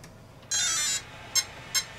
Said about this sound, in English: Should beep, do its chimes.